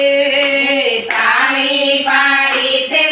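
Rhythmic hand clapping from a devotional group singing a Radha Krishna bhajan, claps keeping time beneath loud harmonium-like sustained tones and sung voices.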